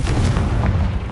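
A Confringo fire spell bursts in Hogwarts Legacy combat, a short, loud, dense whoomp with a low rumbling body that fills the brief moment without any talk.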